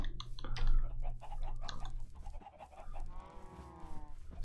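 A chicken in the video game Minecraft clucks in short repeated bursts, followed by a drawn-out warbling call, close and clear over a low background hum.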